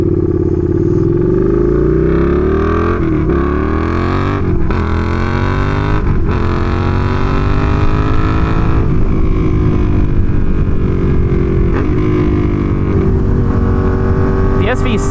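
A Suzuki SV650 motorcycle with a cheap aftermarket exhaust roars loudly and continuously on the road, its pitch climbing and dropping through repeated gear shifts as the bike accelerates.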